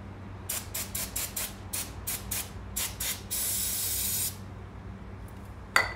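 An aerosol spray can hisses in a rapid series of short bursts, then one longer continuous spray, close by with no talking, while servicing a Husqvarna FC450 dirt bike.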